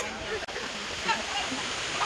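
A waterfall on a road trip toward Maredumilli gives a steady, fairly loud rushing hiss of falling water. Voices murmur faintly under it.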